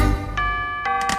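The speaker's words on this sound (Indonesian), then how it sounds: "Suara lonceng gereja" Church bells ring out with sustained, clear pitches and a few struck accents over a steady musical background.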